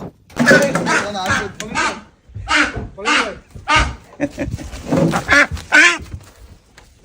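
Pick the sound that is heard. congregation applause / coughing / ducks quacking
ducks quacking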